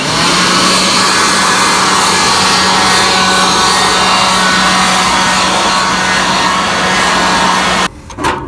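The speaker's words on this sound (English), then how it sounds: "Let's try using a blower." A blower clears debris from a Snapper Comet mower deck near the spindle, a loud, steady roaring rush of air that stops abruptly near the end, with no talk.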